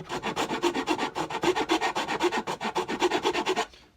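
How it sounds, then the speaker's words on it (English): A Shinto rasp files the wood of a cigar box guitar neck in a steady series of about two dozen quick, evenly spaced rasping strokes, close and clear with no talking, stopping just before the end. "I get the subtle side of the Shinto rasp and just take off"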